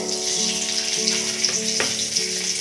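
Dried red chilli and bay leaf hit hot mustard oil in a kadai for a tempering. A continuous close sizzle runs throughout with a few sharper spits and a low steady hum behind it; nobody speaks.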